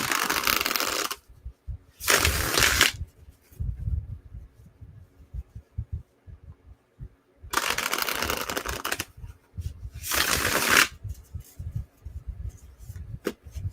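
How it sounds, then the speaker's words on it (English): Bursts of riffling tarot card shuffles, each lasting about a second, separated by quiet handling noises and soft taps. "Let me shuffle one more time"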